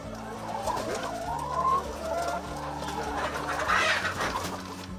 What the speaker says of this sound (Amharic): የዶሮ መኖሪያ ቤት ተሰርቶ 200 ዶሮዎችን ይዘናል